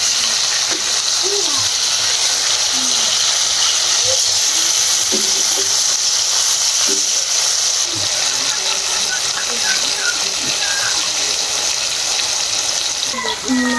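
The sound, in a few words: fish frying in a pan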